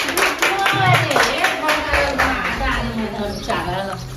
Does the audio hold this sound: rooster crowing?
no